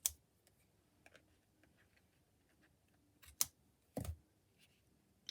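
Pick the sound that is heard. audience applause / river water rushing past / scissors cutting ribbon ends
scissors cutting ribbon ends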